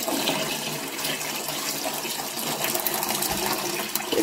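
Water gushes in a strong, steady stream as it is poured out for a dog in a rural village yard, close and continuous from start to finish.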